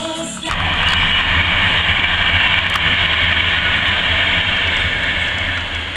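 Loud, roaring rumble of a train passing close by, a steady rushing wall of noise after a sudden onset.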